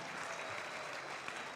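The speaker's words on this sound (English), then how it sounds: "Give her a round of applause." An audience applauds at an award presentation, a steady, dense wash of clapping heard from within the room, fairly quiet and even throughout.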